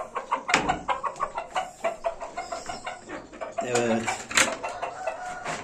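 A chicken clucks close by in quick repeated bursts, with other fowl noise around a farmyard and a person speaking briefly.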